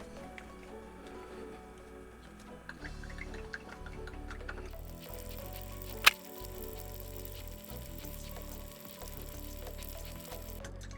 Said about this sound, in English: And now it's going to start pouring some resin out.